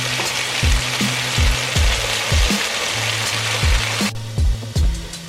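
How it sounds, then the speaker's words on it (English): Thyme, garlic and red pepper flakes sizzle loudly in a pan, a dense constant frying hiss punctuated by rhythmic knocks of a utensil stirring against the pan. "So now in the pan, I'm just sauteing up some thyme, garlic, and red pepper flakes"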